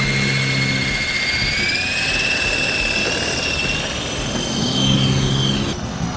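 A toy helicopter's rotor and motor whine steadily and fairly loudly throughout, with a slight pitch shift near the end.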